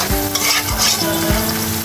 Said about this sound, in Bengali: পেঁয়াজটা ভাজতে ভাজতে 2টা তেজপাতা দিয়ে দিব